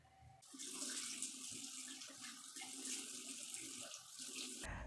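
Tap water runs steadily into a sink while soap is rinsed off a face, a close, continuous splashing hiss that begins after a brief pause and cuts off sharply at the end, with no voices.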